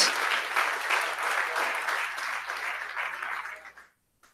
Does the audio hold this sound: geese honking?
no